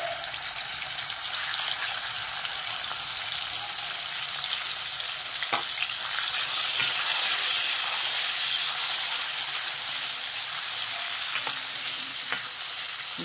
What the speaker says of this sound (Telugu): మెత్తళ్ళు ఆయిల్లో వేయాలి.